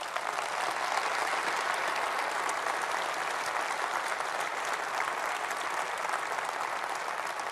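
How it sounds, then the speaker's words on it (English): Steady, dense applause from a large audience at the Conservative Party Conference 2017, sustained evenly throughout at moderate loudness with no clear talk over it. "You see my friend Michael leading the clap there"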